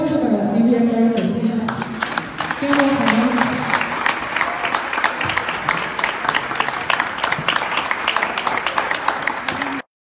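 A crowd applauds warmly for a singer at a tribute to another singer in Garibaldi, with loud, dense clapping that holds steady for several seconds before cutting off abruptly. Cheers and voices mix in at the start.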